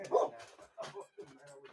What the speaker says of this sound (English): they're barking their head off because they heard you pulling in